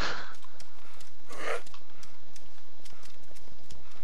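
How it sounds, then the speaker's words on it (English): A cow walking in the video game DayZ, its hooves making a steady, hollow clip-clop rhythm at moderate volume that continues throughout. "It's a fucking cow, man"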